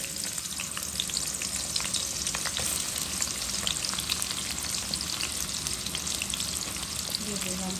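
Cooking oil sizzling and frying in a hot pan, a steady crackling hiss that holds throughout at moderate level, with faint stirring scrapes.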